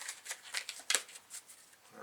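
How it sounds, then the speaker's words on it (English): A deck of game cards is shuffled by hand in short, quiet riffling bursts that repeat several times over about two seconds, close and alone. "I got to shuffle this deck up."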